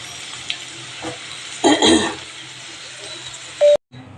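A spoon scrapes and stirs jackfruit seeds with cumin, salt, turmeric, green chillies and garlic in a pan over a soft sizzle, a few scraping strokes near the mic, then a short beep-like tone at the end.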